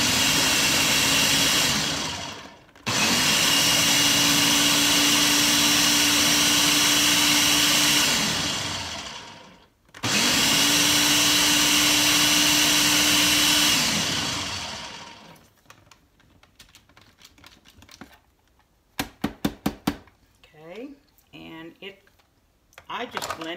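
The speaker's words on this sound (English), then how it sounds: "I just blend it until it's all blended together, really smooth" A kitchen blender whirs homemade salsa in two long, loud bursts, each climbing to a steady high whine and winding down, followed by quieter clattering and a few sharp clicks.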